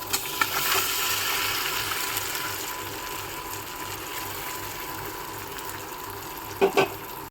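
Soya chunks go into butter in a wok, giving a low, soft sizzle with a few clicks and two brief clanks of utensil on metal near the end, with no speech.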